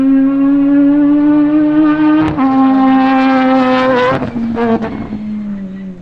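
A rear-wheel-drive drift car running slick tyres drives on a race track, its engine holding a loud, sustained tonal drone close by with shifts in pitch and a few sharp bursts before easing slightly.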